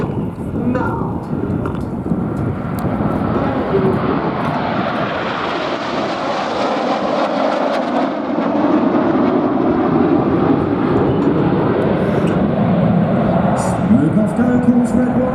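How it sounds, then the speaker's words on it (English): A Red Arrows airshow jet passes loudly with a steady engine roar that rises and swells over several seconds, while an announcer speaks over it. "Calls Red One as Concorde disappears out to our front right."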